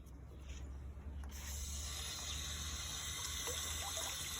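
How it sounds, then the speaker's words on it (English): Tap water runs steadily into a sink as cucumbers are washed, a faint continuous splashing stream with soft handling sounds and no speech. "the next step, we're going to wash all the cucumbers."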